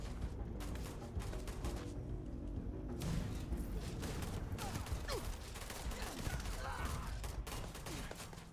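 Continuous rapid gunfire pops and crackles in a Starfield firefight, a steady, busy barrage of shots over ambient battle noise with brief sharper bursts.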